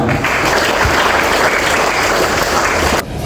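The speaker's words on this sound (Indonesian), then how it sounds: "Tepuk tangan." A school audience of students and staff at SMK Negeri 2 Jakarta claps steadily and loudly, a dense, close wash of applause that cuts off abruptly near the end.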